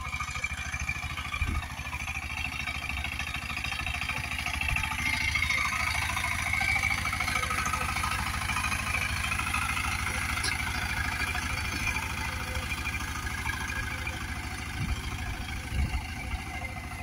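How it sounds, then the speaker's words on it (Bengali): A Saifeng power tiller with a 28-tine rotary runs steadily while ploughing a flooded paddy field for Aman rice planting, a continuous mid-level engine drone with clattering, heard alone without talking. "তো দেখুন আমার পাওয়ার টিলার"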